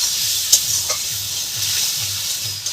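Spice paste being fried and stirred with a little water for potol and egg biryani, a constant bright sizzle with a rhythmic scraping of the spoon in the pan and a few sharp clicks, close and unvoiced.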